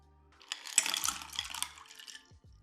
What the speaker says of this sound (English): add cold water and ice.